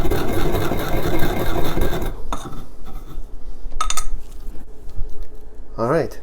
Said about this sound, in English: The salt actually helps to grind the peppercorns as well.